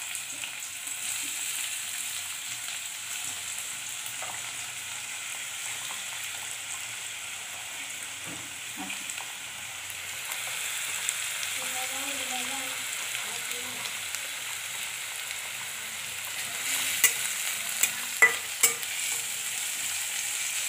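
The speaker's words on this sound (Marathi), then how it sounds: "आपलं तेल तापलेलं, आता कांदा टाकून त्याच्यामध्ये तेलामध्ये" Chopped onion frying in hot oil for an omelette gives a steady, close sizzle that hisses continuously throughout, with a few faint clinks and light stirring near the end.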